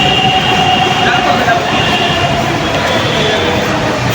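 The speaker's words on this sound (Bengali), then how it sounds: "জীবনে প্রথমবারের মতো আমি মেট্রো ট্রেনে উঠতেছি।" A Dhaka metro rail train rides along with a steady, loud rumble of running carriages and faint high wheel whine, continuous throughout with no clear talk.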